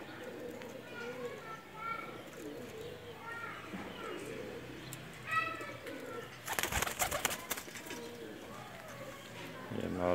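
A pair of Teddy pigeons, a Pakistani breed, coo in repeated soft rolling phrases close by, with someone talking quietly in the background and a brief rustle midway.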